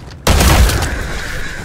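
A single loud burst of gunfire from a Call of Duty video game erupts after a brief quiet moment, then decays into a lingering, ringing rumble.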